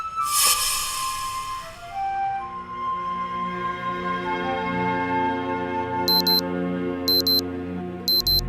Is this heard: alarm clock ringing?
yes